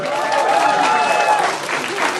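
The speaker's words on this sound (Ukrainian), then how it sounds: "Ваші оплески, Олександрові." Steady applause from an audience fills the short stretch, a dense even patter of clapping with voices mixed in.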